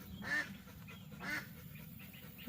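Two domestic duck quacks sound faintly, about a second apart, over a soft steady background hum.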